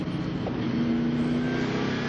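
NASCAR race car engines roar steadily at the 2001 Harrah's 500, a continuous loud drone with a sustained tonal whine, no talking over it.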